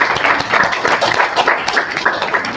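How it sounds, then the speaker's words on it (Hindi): Audience applause at a college career-guidance event, a steady dense wash of many hands clapping that carries evenly through the whole stretch at full, close volume. "तालियां रुकनी नहीं चाहिए।"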